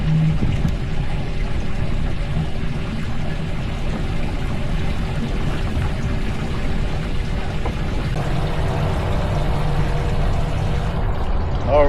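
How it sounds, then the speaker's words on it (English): A boat's trolling motor runs steadily at the bow of a 2022 Maverick boat on open water, a constant low hum and hiss holding level throughout with some faint splashing and knocking. "the trolling motor seems to be working just fine"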